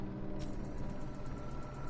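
A telephone rings in Batman: Arkham City, a steady electronic tone held over a dense, constant background of game ambience.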